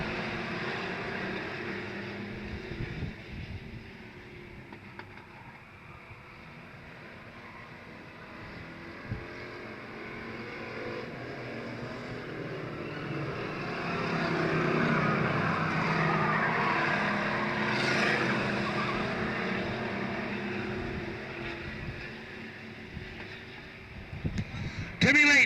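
Race cars roar off a green-flag restart on an oval track, a broad, distant engine drone that swells and fades as the pack passes, under an announcer's voice.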